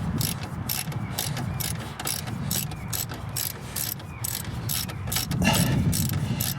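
A ratchet tightens the nut on a Bandit Level 4 shock for a 2022 Polaris RZR Trail, giving quick, steady clicking strokes up close in repeated bursts with no talking.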